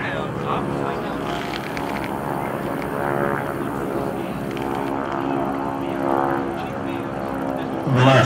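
A propeller warbird flies at an air show, a steady droning engine roar that swells slightly as it passes, with people talking underneath.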